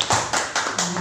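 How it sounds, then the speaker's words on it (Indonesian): Applause for a woman teacher at a state special-needs school in Indonesia comes as four sharp, evenly spaced claps in quick succession, close and loud. "Kita beri aplaus dulu untuk Ibu Ria."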